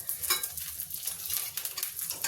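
Pointed gourd (parwal) frying in a pan as the pieces are turned over: a steady close sizzle with soft scraping and stirring strokes throughout.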